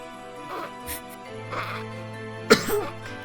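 A man lets out one sharp cough, almost a throat-clear, during a casual podcast chat. It is a short burst heard against quiet room tone.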